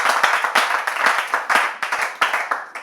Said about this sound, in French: On peut tout de même applaudir notre candidat.